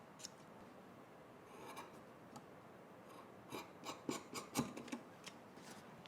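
Scissors trim the seam allowance on fabric during sewing, a faint series of soft snips and light rustles, scattered at first, then clustering into quicker cuts toward the end.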